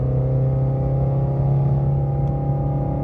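A Shelby GT350R's engine, fitted with long tube headers and ARP hardware, holds a steady deep idle rumble with a strong low drone, loud and close, with no talking.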